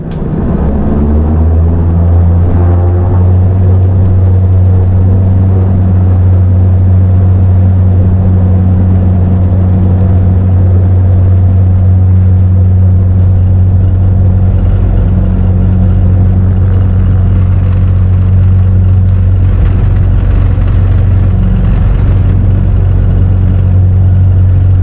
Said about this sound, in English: Let's throttle up and take off